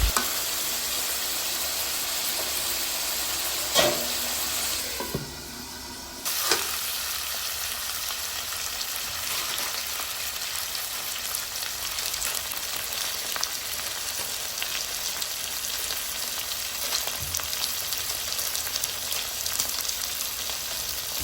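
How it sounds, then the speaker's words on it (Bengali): Beef cooks with spices for biryani, sizzling steadily in a pot while being stirred, with occasional scrapes and clanks, a short quieter dip partway through, and no talking. "বেশ কিছুক্ষণ নেড়ে চেড়ে ভালোভাবে কষিয়ে নেব"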